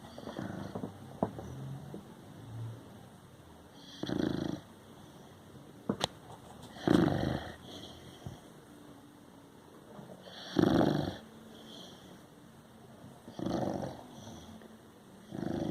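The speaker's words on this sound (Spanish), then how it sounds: "Y duerme como uno, acostadito y ronca." A six-month-old male American Bully pit bull puppy snores while lying down asleep, giving slow, regular rasping breaths about every three seconds, close and fairly soft.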